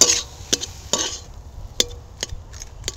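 Aloo chop potato filling being stirred in a pan, heard as several sharp, close scraping strokes of a utensil against the pan at an uneven pace, with a faint sizzle underneath.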